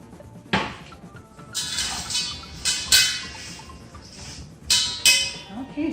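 Seasoned popcorn tossed in a bowl, giving a series of dry rattling, clattering bursts that come and go in quick shakes at close range.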